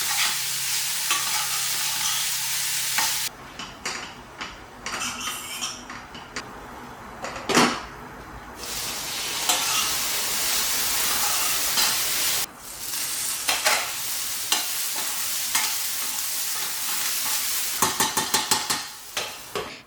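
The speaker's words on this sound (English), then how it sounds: "ensure to keep stirring it occasionally until both of these vegetables tend to become soft and tender" Mixed green, red and orange bell peppers and onion sauté in a pan with a steady sizzle, broken by scraping stirs, clanks of a utensil against the pan and a lid, and a burst of quick rattling near the end.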